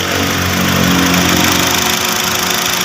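The auxiliary radiator fan of a 2015 Honda City runs with a loud, steady, close whirring drone and a constant motor hum, uninterrupted and without talk.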